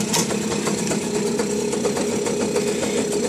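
A small remote-control mini quad bike engine idles with a fast, rattly, steady putter, close and continuous throughout.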